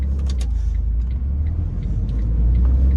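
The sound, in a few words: road traffic passing on street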